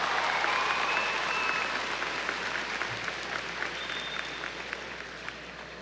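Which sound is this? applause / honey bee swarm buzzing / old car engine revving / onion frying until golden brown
applause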